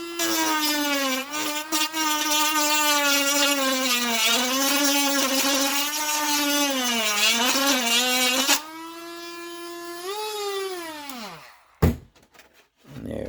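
A rotary sanding drum trims the edge of a cracked, repaired RC car body, giving a loud, steady high-pitched motor whine that wavers as it bites. The pitch drops partway through, then the tool spins down to a short thump and quiet.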